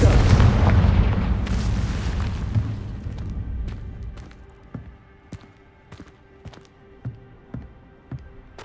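A Confringo blast spell in Hogwarts Legacy explodes with a loud, booming burst, and the roar fades over a few seconds into scattered sharp pops and impacts with faint background sounds.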